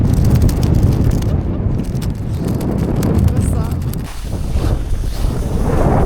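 Heavy, steady wind buffeting the microphone with a low roar throughout during winter ice fishing, while a voice speaks briefly over it.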